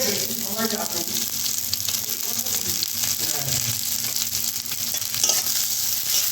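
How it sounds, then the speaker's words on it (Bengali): Onions frying in a pan of oil, already holding fried green chillies for a crab dish, give a constant close sizzle with stirring scrapes throughout. "তো এবার দিয়ে দেওয়া হয়েছে পেঁয়াজ"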